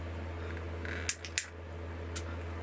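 A plastic model railway wagon coupling hook is snipped with cutters, giving two sharp, close clicks a fraction of a second apart over a quiet background hum.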